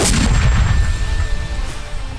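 A single heavy mortar launch boom on the eighth charge near Bakhmut, loud and close, with a ringing metallic tail fading over a couple of seconds.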